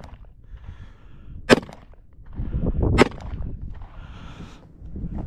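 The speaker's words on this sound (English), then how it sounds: "We'll do three shots on the black dot over here on the" Three sharp gunshots from a Glock 21 .45 ACP pistol fired outdoors on a cold range, spaced about a second and a half apart, each a loud crack with brief rumbling tail, background murmur between.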